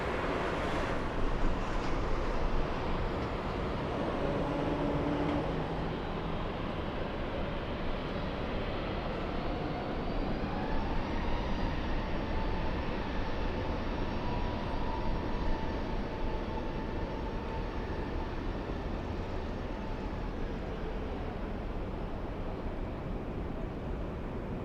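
A Delta airliner in special 100-years livery at LAX airport roars as a sustained, loud broadband jet rumble with a slowly shifting engine whine, heard from a distance with no talking.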